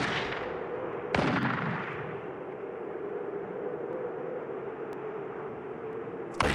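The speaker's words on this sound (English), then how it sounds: "Allende shooting a rifle" Salvador Allende fires a rifle in old archival footage: a few sharp, loud shots ring out near the start and again at the end over a steady background hiss.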